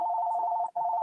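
A phone rings with a steady electronic tone that breaks once briefly before resuming, loud and close with no talking over it.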